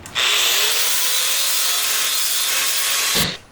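Angle grinder fitted with a fresh disc cleaning up metal pieces for welding in a garage, a steady loud high-pitched grinding whine that starts abruptly, holds for about three seconds and then spins down.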